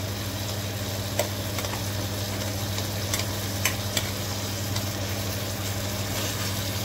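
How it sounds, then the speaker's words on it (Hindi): Ground green masala stirred into a sizzling rohu fish curry base in a Goan kitchen, a steady low frying hiss with occasional soft scrapes and clicks from the spoon, continuous and fairly quiet. "आता हितून हांव ग्रीन मसालो जो वाटलेलो पळय ते घालता।"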